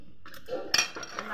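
Raw mango pulp with sugar being stirred in a pan, heard as a few light metallic scrapes and clinks of a spoon against the pan, close and fairly quiet, with no talking.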